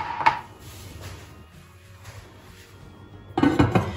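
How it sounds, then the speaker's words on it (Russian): Lid set on a baking dish of chicken and potatoes, which is slid into a hot oven: a sharp clink at the start, quiet rustling handling, then a cluster of louder metallic clatters near the end. "Накрываю крышку и ставлю в разогретую до 200 градусов духовку на час"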